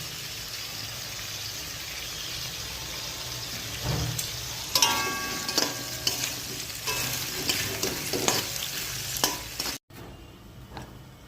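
Potatoes fry in hot oil in a pan with a steady sizzle, while a spatula scrapes and stirs in irregular clicks and clatters, close up and with no talking.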